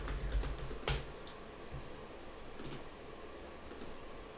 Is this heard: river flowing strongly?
no